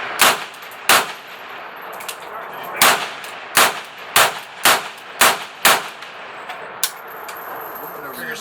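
An IO AK-47 rifle fires about ten loud, sharp semi-automatic shots outdoors, spaced irregularly and then quickening into a steady run near the end.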